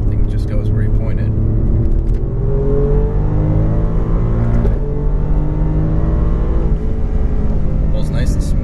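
A 2017 Alfa Romeo Giulia Quadrifoglio engine revs hard on a race track, a loud, steady drone that climbs and falls in pitch as it pulls, with someone talking over it.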